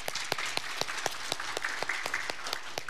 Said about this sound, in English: Don't you just want to applaud now?